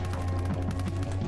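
A rapid, steady stream of gunshots fires from the My Friend Pedro side-scrolling action game, loud and continuous over a low musical hum.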